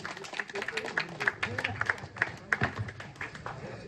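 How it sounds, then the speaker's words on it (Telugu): Guests at a school alumni reunion of the 1993-94 batch clap together in a burst of fast, scattered applause, close by and mixed with overlapping voices. "అందరూ గట్టిగా క్లాప్స్ కొట్టండి. గట్టిగా క్లాప్స్ కొట్టాలి."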